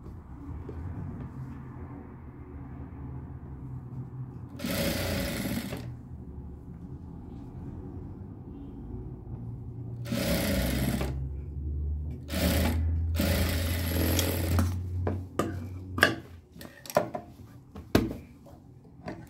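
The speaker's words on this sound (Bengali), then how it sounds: "এই দেখুন এরকম পাইপিং করে সেলাবেন" A sewing machine stitches piping onto a kameez neckline in several separate bursts of fast whirring, with short pauses and clicks between runs and a steady low hum underneath.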